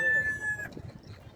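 Chickens at a bird market in Kuwait, a short rooster-like crow or cluck near the start fading into low market murmur and clatter, no speech.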